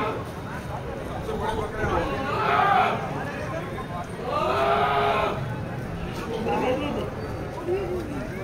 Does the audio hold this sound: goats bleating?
yes